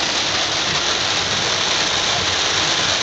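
Heavy rain pours down in a steady, dense hiss of a downpour during a storm, loud and continuous with no break or voices, a broad wash of falling water drumming on surfaces close by.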